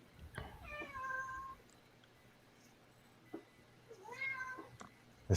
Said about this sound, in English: she's just going to have to meow